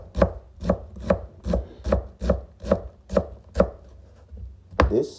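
A kitchen knife cuts small slits into a chicken breast on a board, striking in about ten steady, evenly spaced chops that pause briefly before one final stroke.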